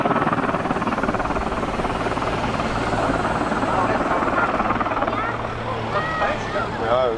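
A helicopter flies at the Belgian Air Force Days airshow, a loud, continuous rotor and engine roar filling the whole stretch, with a voice talking over it near the end.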